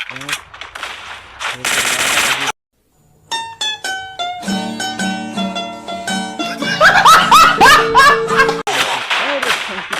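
Gunfire in a shooter video game, with rapid automatic bursts and sharp single shots mixed with game effects and music, loud and dense, pausing briefly before resuming.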